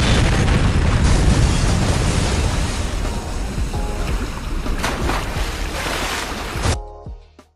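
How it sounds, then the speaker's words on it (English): A huge, roaring blast of a yacht exploding in the video game Saints Row, rumbling on and slowly fading over several seconds, dense and loud, ending in a short cutoff. "suddenly an explosion goes off, destroying the yacht and everyone on board"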